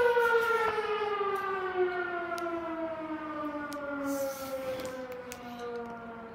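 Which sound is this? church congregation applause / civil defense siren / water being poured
civil defense siren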